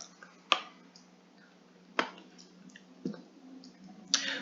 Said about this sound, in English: So click on the stock here.